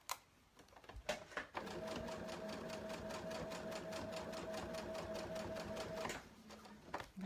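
A sewing machine stitches a shark tail blanket in one steady, fast run of about five seconds, its needle clattering evenly between a few soft handling clicks, faint and close with no talk.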